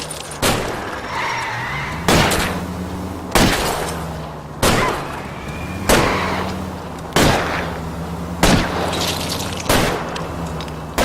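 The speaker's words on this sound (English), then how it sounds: "I'll try to shoot out his tires." Gunshots in the L.A. Noire video game, fired at a fleeing car's tires. About nine sharp, loud reports arrive at an even pace, roughly one per second, over a steady low engine drone.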